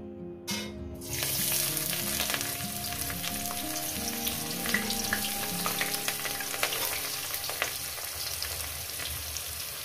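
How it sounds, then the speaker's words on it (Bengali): Chopped onion dropped into hot oil for a chicken bharta, bursting into a loud, steady sizzle after a brief pause at the start and crackling continuously without talk. "তেলটা আমার গরম হয়ে গেছে, এর মধ্যে দিয়ে দেবো আমি পেঁয়াজ কুচি"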